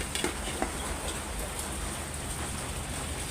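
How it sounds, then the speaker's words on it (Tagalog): Heavy rain falls steadily on a cold Christmas Day, a dense, even hiss of drops close by with a few faint taps near the start, and no voices. "So mga kapatid, malakas nga pala ngayon ang ulan."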